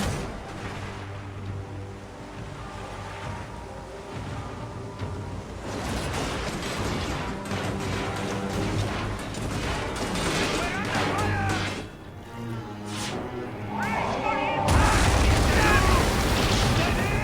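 A naval battle in the video game Assassin's Creed Origins: a dense, rumbling roar of cannon fire, crashing and bursting explosions builds to a loud, sustained din, with people shouting over the chaos.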